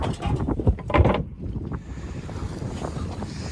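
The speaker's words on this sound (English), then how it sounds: "the wind has picked up all of a sudden" Wind gusts buffet the microphone aboard a sailboat at sea, loud bursts at first, then easing into a steady, rushing roar with no voices.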